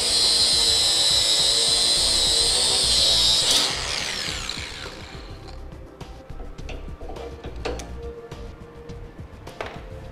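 A cutoff wheel slices through a bumper bracket on a 2013 Chevrolet, a loud, high, steady grinding whine for about three seconds that then winds down, followed by quieter clinks and handling noises.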